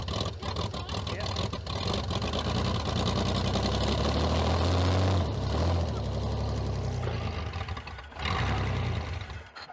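A Holden car engine from a junkyard, freed of rusted valves, running with a rough, rumbling roar that swells and eases over several seconds, loud and close.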